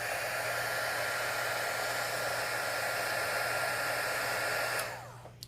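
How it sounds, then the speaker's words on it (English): Heat gun blasting hot air over sticky epoxy on a Starbucks cup, a steady loud whooshing blow that cuts off near the end, with no talking. "you can just heat it up with your heat gun. If you have one. Just give it a quick blast just to thin it out a little bit"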